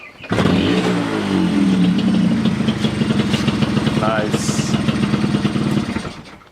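A freshly rebuilt F22B engine with a cleaned head fires up and settles into a loud, steady, throbbing idle close by. A voice briefly speaks over it.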